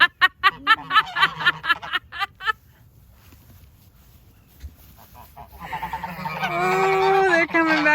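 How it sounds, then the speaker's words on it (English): Geese honk in a quick rhythmic series of loud, close calls, then a short quieter pause, followed by a longer, harsher chorus of overlapping honks. "Goose."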